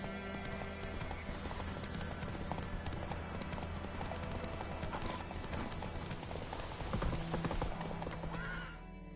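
Horse hooves clip-clopping steadily in The Witcher 3 video game, a dense continuous rhythm of hoofbeats layered with a neigh and game ambience, fading slightly at the end.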